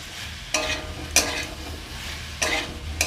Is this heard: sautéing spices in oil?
yes